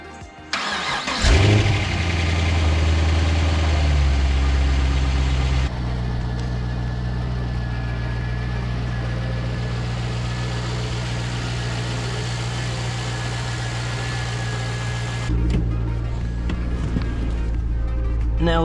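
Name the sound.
Pontiac GTO engine starting and idling to warm up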